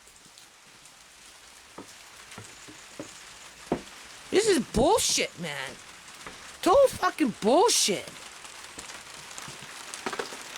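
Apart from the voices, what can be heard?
rain falling, picking up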